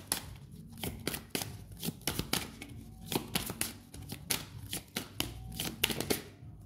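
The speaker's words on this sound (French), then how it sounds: "Je fais le tirage et puis on regarde." An oracle card deck being shuffled and drawn gives rapid, close bursts of riffling and slapping card sounds in irregular clusters throughout.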